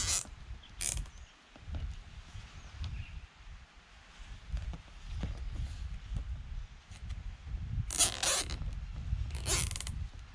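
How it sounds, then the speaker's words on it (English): Plastic zip ties ratcheting tight on a lightweight solar panel frame, a few quick zipping rasps spread over a quiet stretch of handling noise, close by, with no talking. "I'm going to zip tie these nice and tight."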